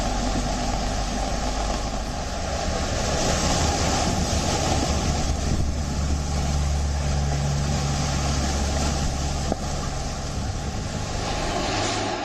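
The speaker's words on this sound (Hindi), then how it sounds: "ये तस्वीर उस वक्त की है जब समंदर में तेज लहरें उठ रही थी।" Strong sea waves pound during Cyclone Tauktae near Mumbai, a loud, unbroken roar of surf and gusting wind that holds steady for the whole stretch, with no voices.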